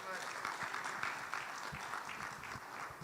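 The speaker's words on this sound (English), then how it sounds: "Ladies and gentlemen, a round of applause for the amazing Maxwell Ampong." Applause from an audience at a Ghana Economic Forum panel session, a steady wash of clapping at moderate level, fairly distant in the room, with some talk mixed underneath.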